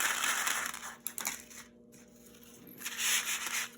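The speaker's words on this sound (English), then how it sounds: "I'm going to get the macaroni that makes a lot of noise." Dry macaroni pasta being handled for a craft project gives bursts of crunchy, rattling crinkling, louder at the start and again near the end, with a quieter stretch between, close by and with no talk.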